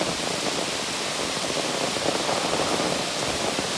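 Rain falls steadily on the Appalachian Trail, a dense, unbroken hiss of drops close around the listener, with no voices.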